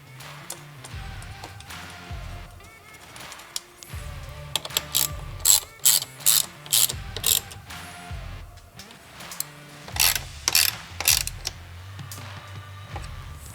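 A ratchet tightens a fastener on a Sunrider hardtop bracket for a Ford Bronco, giving bursts of sharp, close ratcheting clicks separated by short pauses and quieter creaky handling.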